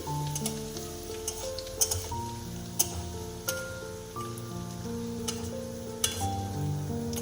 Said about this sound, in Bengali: শুকনো লঙ্কা দুটো একটু ছিঁড়ে দিয়ে দিচ্ছি। হালকা করে একটু ভেজে নিচ্ছি।